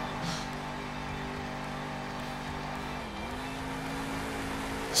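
Monster truck engine from the racing game Monster Jam Steel Titans 2, a steady droning motor hum held at high throttle with a brief pitch dip partway through, close and continuous with no talk.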